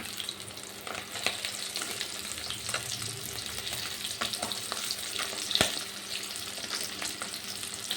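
Pieces of catla fish fry steadily in hot oil in a wok, giving a continuous close sizzle with small pops and the occasional scrape of stirring, no voices over it.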